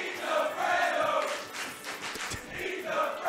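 A large esports tournament crowd at a Super Smash Bros. event roars and cheers continuously, a broad wash of voices that swells and dips across the whole stretch.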